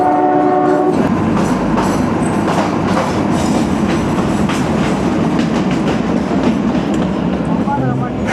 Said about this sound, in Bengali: পাহাড়ের প্রত্যেকটা টার্নিংয়ে যখন টয় ট্রেনটা যখন টার্নিং নিচ্ছে